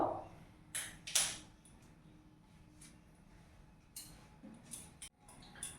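A gas stove burner is lit under a wok set in place for frying, with a few faint, sharp igniter clicks scattered over quiet room background and no talking.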